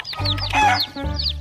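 A colourful rainbow-dyed chicken clucks in short, close repeated calls over a low background hum, with no talking.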